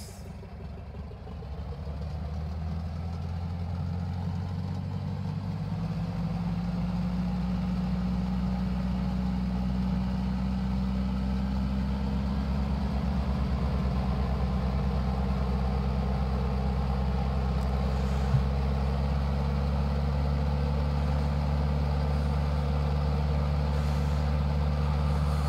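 A Tiger Moth biplane's engine runs steadily at a runway hold before takeoff, a loud, deep, continuous drone that rises slightly in pitch and stays close throughout with no talk.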